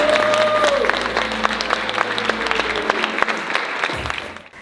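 Audience applause for a singer at Yirara College, a dense crowd clapping steadily and loudly throughout, with a few stray calls, fading out at the end.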